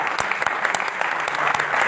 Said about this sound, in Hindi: तो मैं कहता हूँ नसीम भाई के लिए जोरदार ताली।